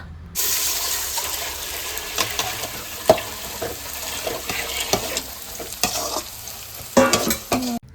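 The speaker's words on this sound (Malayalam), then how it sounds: "എന്നിട്ട് നമ്മൾ അളന്ന് മാറ്റി വെച്ച് വെള്ളം അതിലോട്ട് ഇങ്ങനെ ഒഴിച്ചു കൊടുക്കുക" Water poured into a hot pot while making chicken biryani gives a loud, continuous sizzling hiss, heard up close, with some clatter of stirring.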